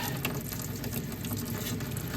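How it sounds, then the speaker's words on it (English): Hot water runs steadily from a sink tap, a continuous close rushing stream with no pauses, heard alone while a metal blade from a Mainstays 9-inch high velocity fan is about to be cleaned. "Go ahead and turn on my hot water here."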